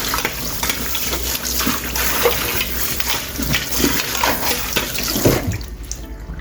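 A knife used on chicken is rinsed under a running kitchen tap, with a steady stream of water broken by splashes and clinks as the blade is handled, and the flow fades near the end.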